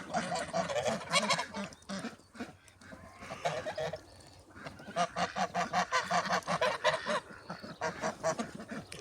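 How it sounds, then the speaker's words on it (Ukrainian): A flock of domestic geese honks repeatedly nearby, loud overlapping calls coming in bursts with a brief quieter lull in the middle. "Ось такі наші гуси,"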